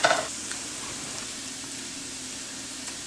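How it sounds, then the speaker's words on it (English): Onion and ham frying in a pan for keto shrimp fried rice give a steady close sizzle from start to finish, with a brief stirring clatter at the very start. "You want to cook this until the onion is nice and soft and translucent, a little brown"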